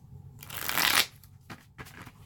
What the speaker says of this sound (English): Let's give them a good side shuffle.